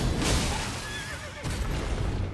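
A horse neighs loudly in Elden Ring: one long, wavering whinny, close and prominent, with a rumbling, hoof-like impact and a dense game soundscape underneath.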